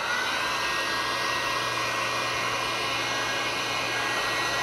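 A handheld heat tool blows hot air steadily to warm a piece, producing a loud, continuous broadband whoosh with a constant motor hum beneath, close to the microphone and uninterrupted throughout.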